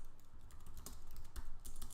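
Typing on a computer keyboard while entering terminal commands, a quick run of close, crisp key clicks with uneven rhythm and a few heavier strokes, alone without talk.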